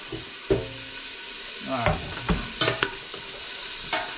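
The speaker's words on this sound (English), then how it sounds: "right now I just want to brown the ham a little bit" Diced ham browning in a soup pot over medium heat for Maryland crab soup, a low steady sizzle broken by several sharp scraping stirs of a utensil against the pot, close by with no talking.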